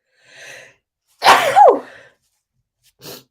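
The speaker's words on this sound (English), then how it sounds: "I'm going to sneeze, bear with me." A single loud, close sneeze with a sharp sharp intake and burst, preceded by a soft breath and followed by a brief exhale.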